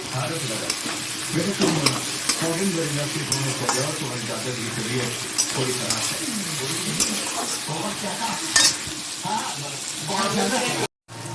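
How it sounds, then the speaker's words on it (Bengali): Biryani being stirred in a cooking pot, with a steady sizzle and scraping of the utensil through the rice, loud and close, while a voice talks over it. "নাড়াচাড়া দিয়ে নিই। বিরিয়ানি তৈরি হয়ে গেছে"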